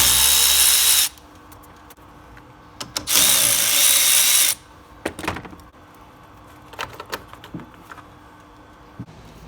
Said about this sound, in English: go ahead and disconnect both battery cables using our 10mm socket